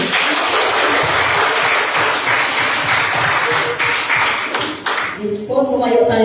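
Church congregation clapping for the Lord during a Sunday sermon, a dense sustained round of applause filling the room that thins out near the end, where a voice starts to speak.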